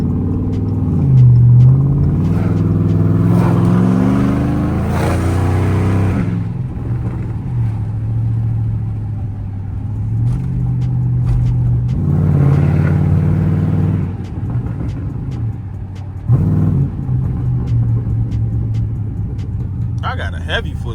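A 2013 Chrysler 300C accelerates along a rough road, its engine rumbling low with rising revs in several surges, steady road noise between them, heard from inside the car.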